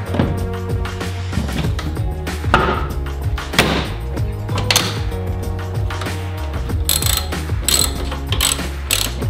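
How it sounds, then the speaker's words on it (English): A ratchet cranks steadily, tightening three 10 millimeter taillight bolts on a Toyota Tacoma, its fast pawl clicking close and loud and continuing throughout with brief pauses between strokes. "put those three 10 millimeter bolts back to secure it"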